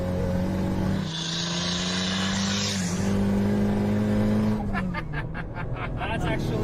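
A turbocharged car accelerates in fourth gear at about half throttle on its low boost setting, the engine tone climbing steadily and loud from inside the cabin before easing off, with voices talking over it.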